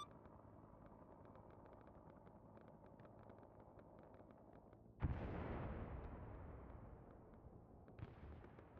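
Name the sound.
C4 explosion in a tunnel, from the video game Arma 3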